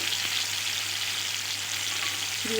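Spoonfuls of mung dal paste frying in oil over a lowered gas flame for ridge gourd fritters, a steady close hiss and crackle throughout, with a faint clink near the end.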